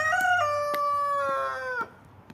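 A Plymouth Rock Silver rooster crows once nearby, a long drawn-out call that holds for nearly two seconds before breaking off, with faint hen clucks and yard noise underneath.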